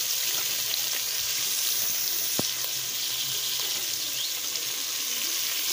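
Bacon fries in a pan with seasonings for cornmeal farofa, giving a loud, steady, close hiss that barely changes, broken once by a brief click.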